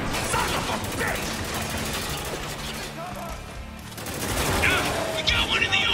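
Video game Spec Ops The Line: heavy automatic gunfire rattles in continuous bursts of combat, with shouting voices mixed into the battle noise.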